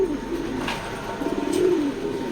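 A pair of black racing pigeons coo softly nearby in low rolling phrases, two distinct coos over faint background noise.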